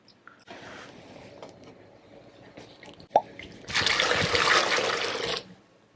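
Malt liquid for traditional Korean sikhye straining through a mesh sieve, with light scattered drips early on and then a steady, louder pouring trickle of water lasting a couple of seconds before it tapers off.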